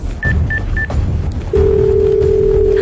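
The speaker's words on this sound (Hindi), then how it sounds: "उसने अपना मोबाइल उठाया और पुलिस का नंबर डायल किया" A mobile phone dials the police number: three short, evenly spaced keypad beeps, then a loud, steady tone that holds to the end.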